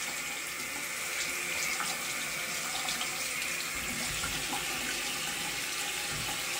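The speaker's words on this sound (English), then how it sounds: "So first, I'm going to get my hot water going." Hot water runs steadily from a sink faucet, a continuous close hiss and splash with no pauses or other sounds.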